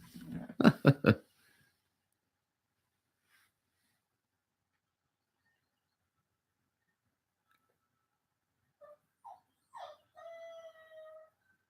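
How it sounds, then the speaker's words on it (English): A puppy gives a few faint, thin whimpering cries near the end after a long quiet stretch, preceded by a brief burst of louder sound at the start. "Oh, now my puppy's crying."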